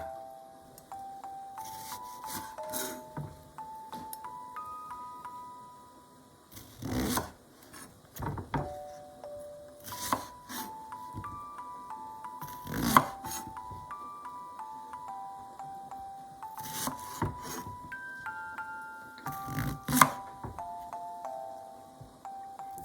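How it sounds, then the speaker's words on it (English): Knife slicing a leek diagonally on a wooden board in a Japanese home kitchen, several crisp chopping taps in irregular bursts beneath a soft, steady melodic background tune. "Next, cut the leek diagonally."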